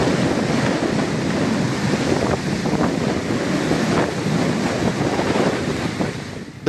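Strong wind and crashing tidal waves at Haldia port in East Midnapur during Cyclone Yaas, a constant loud roar of surf and gusts buffeting the microphone, with no voices.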